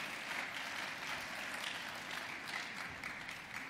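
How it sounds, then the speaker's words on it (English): Faint, distant applause from an audience at a diversity awards ceremony, a soft continuous patter of clapping heard from afar. "Yeah, that is worthy of applause."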